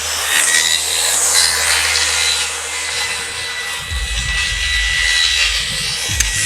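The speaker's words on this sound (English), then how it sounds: "we chalked the line, and we're going to go ahead and cut it off according to the specifications" A wallboard panel being cut along a chalked line for a barn wall, a steady broadband cutting roar running loud and continuous with low rumbling underneath.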